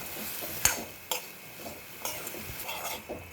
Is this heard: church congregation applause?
no